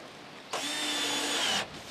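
A power drill drives a pointed self-tapping screw, one close, loud whirring burst lasting about a second with a faint whine, starting and stopping abruptly against quiet room tone.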